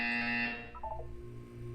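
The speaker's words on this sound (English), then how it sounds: "You will hear a buzzer. When you hear the buzzer, look up at the ceiling." A synthetic buzzer tone from the video game Portal 2 sounds during a wellness exercise, a loud sustained electronic tone that cuts off after about half a second, followed by a short descending chime-like blip.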